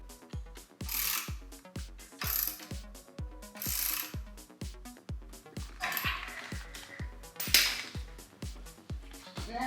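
A motorcycle lift being raised by hand, giving a regular series of sharp metallic ratchet clacks and clunks, close and fairly loud, repeating steadily throughout.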